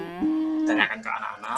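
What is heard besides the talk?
cow mooing in a presentation animation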